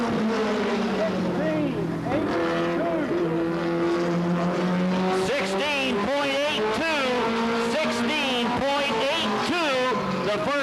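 A Pontiac race car in a 1988 Goody's Dash Series qualifying session at Anderson, South Carolina, whines loudly through repeated gear-like pitch sweeps as it circles the short track, with an announcer talking over it throughout.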